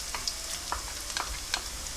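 Garlic fries in a pan with softened, translucent onions, a close, continuous sizzle broken by small crackling pops and light stirring.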